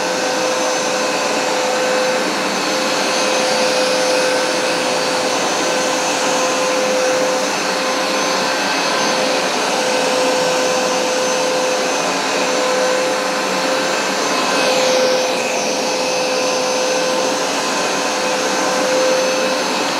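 A Hoover SmartWash carpet cleaner runs with a steady, loud motor whine and airy suction roar, continuous and close for the whole stretch, with no voices.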